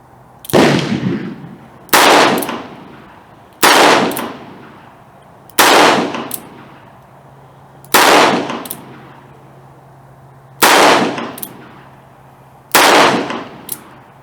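Rapid-fire shots from a Ruger LCR .22 Magnum revolver crack out one by one with short echoing tails, seven reports in all spaced a second or two apart, with one longer pause where a round misfires.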